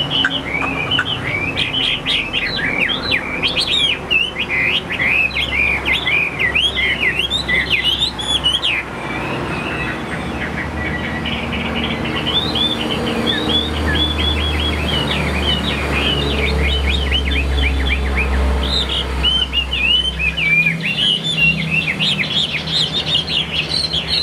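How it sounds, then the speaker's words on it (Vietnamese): A caged songbird sings continuously, bright rapid chirps and warbled phrases repeating close and loud, with no talking over the song. "Chim hót cực tốt luôn các bạn"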